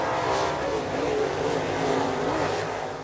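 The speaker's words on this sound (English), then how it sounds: "the stillness is broken by the roar of race engines" Race car engines roar at a rural speedway, a steady loud mechanical drone filling the whole clip with slight swells in intensity and no voices.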